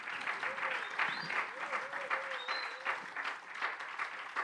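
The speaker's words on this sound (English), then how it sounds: "Please give a resounding, warm round of applause to our panelists." An audience at a Carifesta panel session applauds the panelists with sustained, even clapping, while a voice speaks over the applause.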